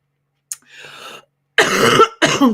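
One person coughs close by, a short throat sound followed by two harsh, loud coughs in quick succession.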